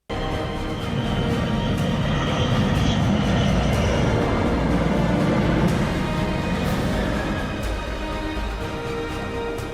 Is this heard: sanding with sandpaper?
no